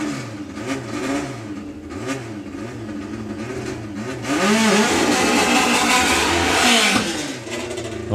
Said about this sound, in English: I love the sound of this dragster.